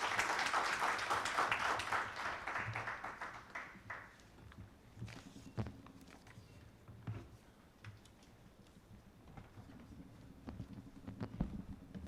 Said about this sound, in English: Once again, I request a big round of applause for Mr. Anupam.